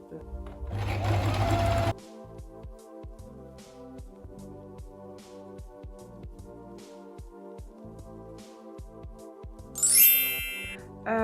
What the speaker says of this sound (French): je vais coudre comme ça tout ici. Des deux côtés, comme ça va resserrer ma jupe.